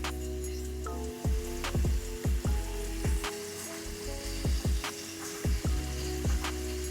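Shrimp seasoned with Creole seasoning cooking in a pan, a steady close sizzle with low hum underneath, broken by a series of sharp clinks and taps as they are turned and moved about.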